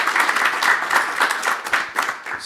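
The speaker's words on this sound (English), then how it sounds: "Please clap." Brief applause from a seated conference audience, a dense patter of many hands clapping close by for a couple of seconds with no voices.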